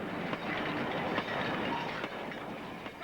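A train runs over jointed rails with chairs, sleepers and fish plates, giving a steady rumbling roll with faint rhythmic clicks, fairly close and without voices.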